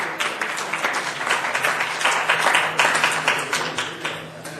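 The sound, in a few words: audience applause for the raffle winner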